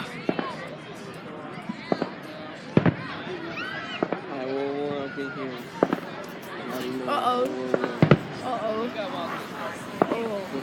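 Fireworks from a 2016 celebration pop and bang at irregular intervals, sharp and fairly near, while excited voices talk and shout almost throughout.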